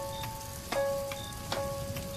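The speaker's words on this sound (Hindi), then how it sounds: "तेज बारिश शुरू हो जाती है।" Steady rain patters and hisses on a surface, dense and continuous, with a faint tonal hum and occasional sharper drips.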